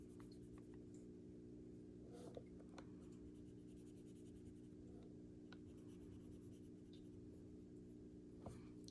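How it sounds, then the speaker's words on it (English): A pen colors in small shapes on paper cash envelopes, giving a steady faint scratching that runs through the whole stretch against a low background hum, with no voices. "I'm gonna color in 5 envelopes."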